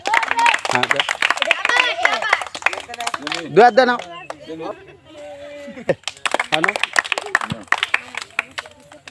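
A group claps hands together in unison during a blindfolded challenge of drinking water from a bottle. Sharp claps run steadily beneath loud, near voices that talk almost throughout.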